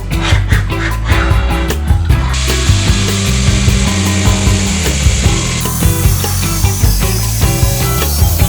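A repair panel for the bulkhead of a Ford Sierra Sapphire 4x4 Turbo is cut with a rapid, rasping, rhythmic metal-cutting chatter. It is loud and close, running continuously throughout.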